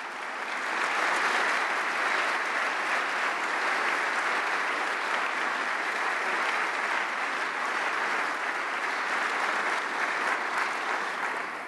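Steady, dense applause from an audience welcoming Jim Lentz, CEO of Toyota North America, at a speaking event. The clapping is loud and sustained, with no break, for the whole stretch.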